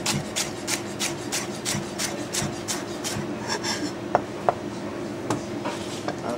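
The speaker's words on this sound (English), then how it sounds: "I'm just going to chop the leeks finely." A kitchen knife finely chops leeks on a wooden board in quick, regular strokes, followed by a few slower cuts and two sharp knocks.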